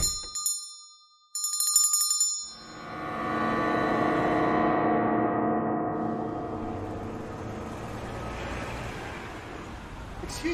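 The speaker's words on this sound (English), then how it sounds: "Stop ringing that damn bell." A bell rings in a horror audio drama: a few bright, close rings in quick bursts at the start, then a long, humming resonant tone that swells and slowly fades over several seconds.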